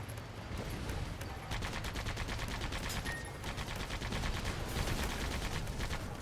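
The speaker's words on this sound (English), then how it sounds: "My bullets seem to be faster than their bullets." Rapid bursts of gunfire from the video game Sandland, dense and continuous across the whole stretch, with steady rattling shots at a constant loud level and no talking.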